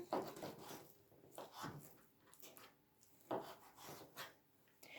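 A knife slices raw chicken fillet into pieces on a board, giving soft, close rasping cuts in several uneven bursts with short pauses between them.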